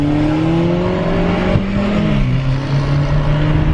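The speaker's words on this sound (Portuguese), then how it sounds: "O Audi custando pra sair do lugar. Aí vai embora." An Audi pulls away from a standstill, its engine droning loudly and close as the revs climb in steady rising tones, shifting partway through and carrying on.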